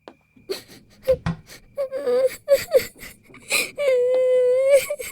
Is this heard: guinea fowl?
no